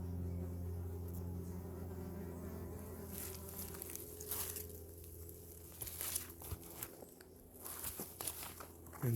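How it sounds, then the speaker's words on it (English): Many wasps buzz close by at the entrance of an underground nest in a forest in Germany, a steady, faint swarm hum with individual insects droning past, plus soft rustles and crinkles. "It's amazing if you see how many wasps go inside and outside."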